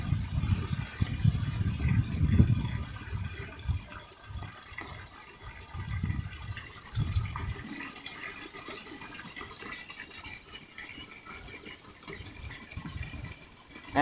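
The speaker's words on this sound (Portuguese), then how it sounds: "As bolinhas subindo e a água descendo, é porque ela desce devagar mesmo." Water filling a plastic PET bottle chick waterer, with bubbles rising as the water drains slowly. Steady gurgling and bubbling runs throughout, heavier in bursts early on and softer later, close and without talk.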